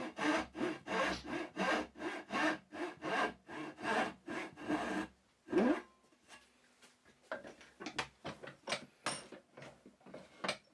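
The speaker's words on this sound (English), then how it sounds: "First creating the notch, and then sawing down along the board until I meet the angled line." A hand saw cuts a reclaimed hardwood board clamped in a vise with steady, rhythmic back-and-forth strokes, pauses briefly, then resumes with quicker, lighter rasping strokes.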